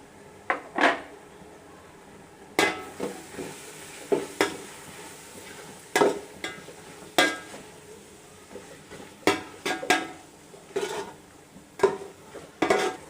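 Chili powder being stirred into masala in a pan for mutton biryani: intermittent clinks and scrapes of a spoon against the pan over a faint sizzle.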